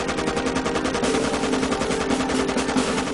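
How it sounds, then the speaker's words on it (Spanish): A Maxim machine gun fires in a dense, continuous burst, rapid shots blurring into a steady loud rattle with no pauses and no voices. "El mecanismo de disparo automático de la ametralladora Maxim consistía en una acción, una reacción y otra acción."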